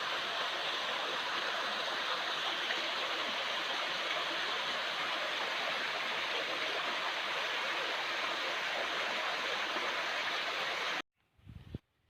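Busay Falls, a forest waterfall, gives a steady, dense roar of rushing water, close and loud throughout, cutting off abruptly near the end.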